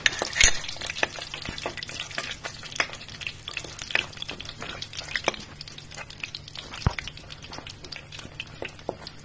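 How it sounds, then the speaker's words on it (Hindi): Green chillies fry in hot oil in a pan, crackling and popping with dense irregular spatters over a lighter sizzle, plus occasional utensil knocks against the pan. "अब इसी तेल में सबसे पहले हम ये मिर्चे फ्राई करेंगे।"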